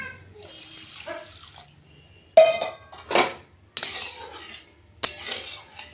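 Fried lentils are washed in a pot of water in short, loud bursts of splashing and sloshing, with clinks of the metal pot between quieter moments, and a voice talks in the background.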